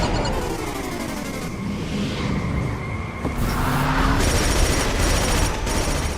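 Rapid gunfire bursts rattle through a Killzone 2 firefight, layered over a dense, noisy mix of game effects and rumbling, continuous and fairly loud with no talk.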